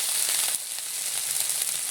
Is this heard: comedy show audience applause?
no